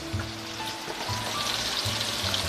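Caraway seeds, paprika and coriander hit hot, smoking, golden melted butter and sizzle steadily, a dense close frying hiss that holds throughout with no voices.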